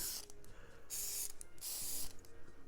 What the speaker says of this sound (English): spray the inside of the barrel, maybe even outside, really